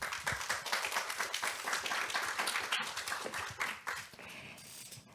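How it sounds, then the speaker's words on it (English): An audience at a fashion summit panel claps to welcome a designer, a rhythmic patter of individual handclaps that lasts several seconds and then thins out, fairly quiet, with no voices over it. "Let's give a round of applause"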